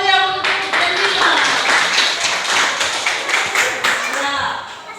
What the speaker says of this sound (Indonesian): Berikan tepuk tangan yang meriah untuk janjinya